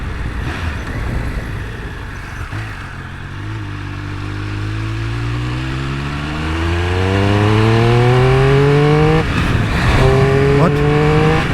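A Triumph Speed Triple motorcycle engine revs up with rising pitch, loud and close, climbing steadily then briefly dropping and climbing again over a constant rumbling background.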